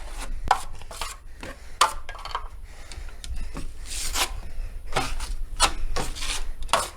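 A drywall knife scrapes and spreads joint compound over a damaged corner bead, producing close, gritty rubbing strokes in uneven bursts with occasional sharper taps of the blade.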